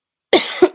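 A woman coughs twice in quick succession, close and loud, after a moment of silence, with the second cough shorter and sharper.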